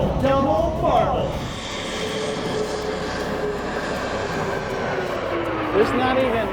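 Blue Angels jets pass overhead during an air show in a loud, sustained engine roar, with a rising and falling sweep as they approach and move away, and a narrator's voice running over it.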